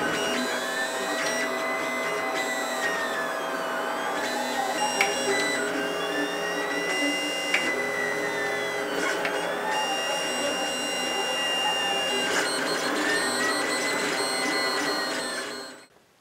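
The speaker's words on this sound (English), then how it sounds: "I'm going to be printing this into multiple parts so that I can print it flat on the bed" A 3D printer runs steadily while printing a bracket in parts laid flat on the bed, its stepper motors whining in repeating rising and falling sweeps over a constant mechanical hum, close and loud, then cutting off at the end.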